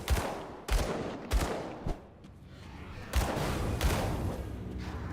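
Gunfire from the action role-playing video game Grim Dawn, with a series of loud, booming single shots at irregular intervals over a dense, rumbling game soundscape.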